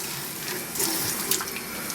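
Water is pumped through a hose to rinse a home-brewing pump, giving a steady close rush and splash of running water with slight gurgling surges and no voices.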